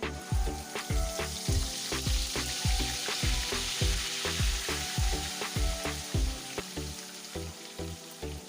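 Ground onion fries in about half a cup of hot oil in a pan, a loud, close, continuous sizzle broken by regular rhythmic scrapes and knocks from stirring, with no talking.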